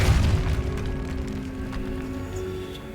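Depulso spell cast in the video game Hogwarts Legacy, a deep, forceful boom that hits at once and then fades into a steady low rumble.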